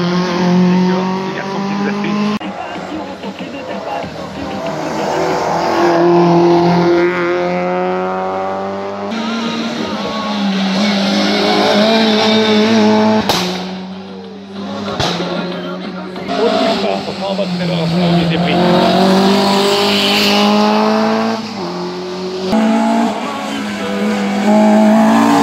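A race car screams through repeated acceleration and gear changes at the Fréteval hill climb, engine pitch climbing and dropping, with tire squeal and an excited French commentator talking throughout.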